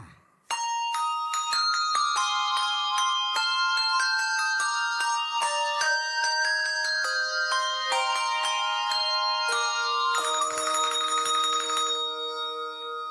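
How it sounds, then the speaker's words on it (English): Festive bell tones from a 1990s Hershey's Kisses Christmas commercial chime out a bright Jingle Bells melody, each note struck alone and ringing in a steady, clear sequence for about twelve seconds with no talking. "it's the Hershey's Kisses We Wish You a Merry Christmas Jingle Bells"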